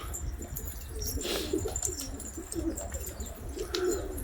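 Several pigeons coo in a soft, steady chorus outdoors during snowy weather in Leipzig, with occasional wingbeats and chirps mixed in and no talking.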